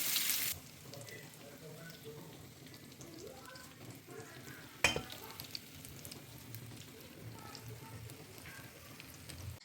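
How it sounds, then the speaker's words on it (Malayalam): Masala-coated chicken for kabsa chicken biryani fries in a pan at home, giving a faint, steady hiss with a single sharp knock partway through. "നമ്മുടെ ചിക്കനൊക്കെ ഫ്രൈ ചെയ്യാൻ ഇവിടെ വെച്ചേക്കാം കേട്ടോ"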